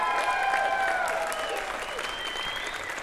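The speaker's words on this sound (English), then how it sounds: "Let's give her a round of applause." A crowd at an awards show applauds a winner with sustained, even clapping, while voices and cheers sound faintly over the ovation.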